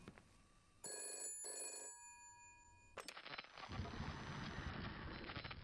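Telephone ringing in the video game Shadows of Doubt: two loud electronic ring bursts in a row, then a click and a low rustling, muffled handling noise.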